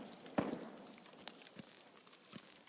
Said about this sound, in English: See, it sounds like footsteps out that way.